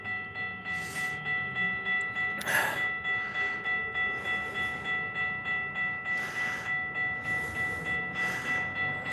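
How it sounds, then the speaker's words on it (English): A passenger train rolls past at moderate speed near a bend, a steady rhythmic clatter of wheels over rail joints with a brief horn-like tone, fairly close and continuous throughout. "So this train will usually go about 75, 80 miles an hour."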